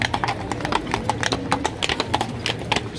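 Horse hooves clip-clop steadily on paving as a horse-drawn cart passes through a crowded Prague Christmas market, the rhythmic clops fairly close over a constant murmur of the crowd.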